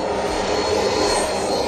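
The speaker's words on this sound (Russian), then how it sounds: "И там он записал звук реверса тяги, который самолеты издают при торможении" Loud, steady roar of a jet aircraft engine on thrust reverse during braking, a sustained broadband rush with a whining tone on top, continuous and close with no talking.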